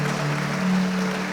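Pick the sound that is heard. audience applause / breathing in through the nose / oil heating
audience applause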